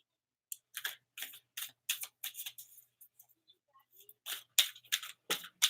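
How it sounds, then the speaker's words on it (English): Fortune-telling cards being shuffled give a rapid run of crisp riffling bursts, close and clear against silence, with a short pause midway. "Okay, now I'm just shuffling."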